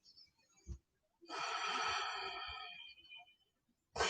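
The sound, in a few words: deep breathing during yoga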